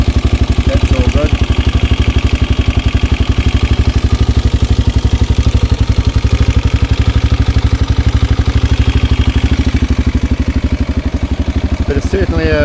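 A Suzuki DRZ250 dirt bike with a newly fitted carburetor idles close by, a loud, steady, rapid single-cylinder thumping with mechanical clatter running unbroken throughout.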